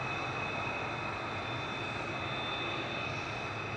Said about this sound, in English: Departing in front of us to Prague is Ryanair flight 6842 EI EMC 737-800